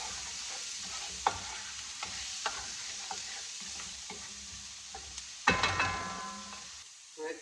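Onions frying with thyme, oregano and dried basil in a pan for gravy, a soft sizzle under intermittent scraping stirs and clinks of the utensil, faint and close.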